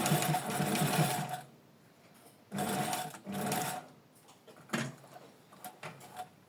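A sewing machine runs in reverse to stitch along a fabric border, making two loud, steady whirring bursts of about a second each. Softer, short mechanical clicks and handling sounds fill the gaps between them.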